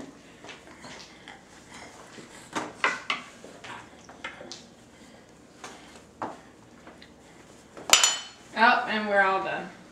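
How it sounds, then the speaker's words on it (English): A spoon clatters sharply as it is dropped near the end, after scattered light clinks of a spoon and dish while a child eats banana pudding. A voice follows the drop. "Oh, you dropped your spoon?"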